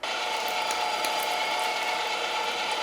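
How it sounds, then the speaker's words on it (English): Foot-pedal electric meat grinder running with chilled parts as beef goes through it, giving a steady, close, continuous mechanical whirring and gear drone with faint rhythmic ticking and no speech. "Everything's cold, foot pedal is attached. Let's grind away."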